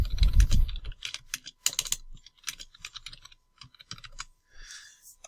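Typing instructions on a computer keyboard, close clicky keystrokes in quick irregular bursts after a brief low rumble, ending with a short soft rustle.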